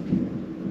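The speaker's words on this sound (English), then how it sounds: "lightning, thunder" Brief low thunder rumble from a thunderstorm in the New Hampshire mountains near Mizpah Hut, a single deep muffled roll lasting under a second with no voices.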